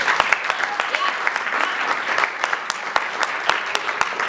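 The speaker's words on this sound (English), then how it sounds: "So give yourselves a round of applause." An audience at a neuromyelitis optica (NMO) awareness gala applauds: a full, steady round of clapping from a crowd, with sharper individual claps popping out of the continuous wash for several seconds.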